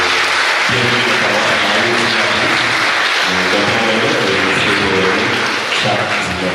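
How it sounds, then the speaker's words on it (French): Congregation clapping during a Catholic Mass at a parish church, loud and sustained, mixed with a held musical tone and some voices underneath the applause. "On applaudit frère Sonio"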